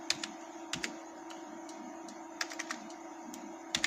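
Keystrokes on a computer keyboard as resume details are typed, scattered crisp clicks in irregular small bursts over a constant low hum, close and fairly quiet, with no talking.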